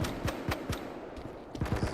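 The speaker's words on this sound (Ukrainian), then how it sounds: "Так, я чую десь тут постріли" Distant gunfire in the hardcore bodycam shooter game Live Lens Bodycam: several sharp shots in irregular bursts, a cluster early and another near the end, over a steady noisy background with no talk.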